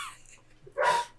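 A dog gives a single sharp bark, near and fairly loud, after a brief faint yip, with quiet low hum around it.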